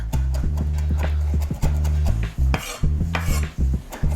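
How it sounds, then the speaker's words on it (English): A knife chops frozen herbs on a cutting board in rapid, regular strikes, loud and close, with a few brief pauses between bursts. "So I'll chop it to the sizes that I want"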